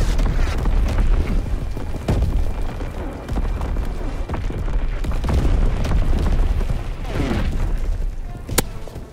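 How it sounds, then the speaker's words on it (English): Enemy artillery shells exploding in a Call of Duty WWII team deathmatch, heavy booms and rumbling blasts rolling one after another over sustained loud battlefield noise, with a sharp crack near the end. "Incoming enemy artillery!"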